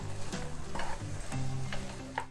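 Potatoes fry with garam masala in a pan, giving a steady close sizzle broken by a few soft stirring scrapes and clicks, with a faint tonal hum underneath.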